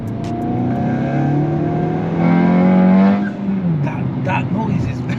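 A Hyundai i20 N engine in eco mode revs up, its pitch climbing steadily then dropping off, loud and close, with people talking over it.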